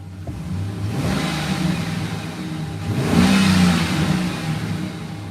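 A car engine at about 169,000 miles with its hood area close by, running steadily then revved up midway to a louder surge before easing back, heard alone without talk.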